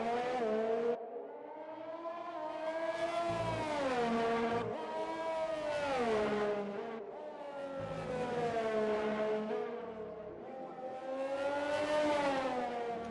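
An F3 race car circles a track in Vietnam on an easy out lap, its engine whining up and down through gear changes in several long sweeping pulls, steady and fairly close.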